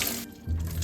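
Tap water runs into a sink to wet moss for a terrarium, a short steady rush that breaks off briefly and then resumes.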